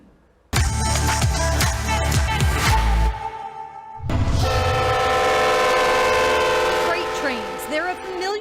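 A freight train passes through cities and farmland, its horn sounding loud and sustained twice over a steady rumble of wheels and railcars, close by and dominating the scene.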